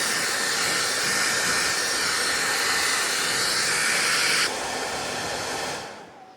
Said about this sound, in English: You're not gonna do that with a simple hairdryer.